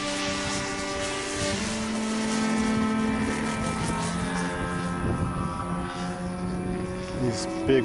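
A 3DHobbyShop 103-inch Extra 330SC radio-controlled aerobatic plane flies overhead at a club event, its propeller engine droning steadily with rising and falling pitch as it passes.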